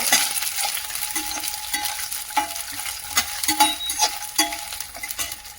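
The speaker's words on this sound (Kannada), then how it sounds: "ಬೆಳ್ಳುಳ್ಳಿ, ಇದನ್ನು ಸಹ ಚೆನ್ನಾಗಿ ಉರಿಕೊಳ್ಬೇಕಾಗುತ್ತೆ" Garlic fries in an oiled pan with a crackling sizzle, broken by repeated scraping stirs of a spoon against the pan, close and fairly loud, with no one speaking.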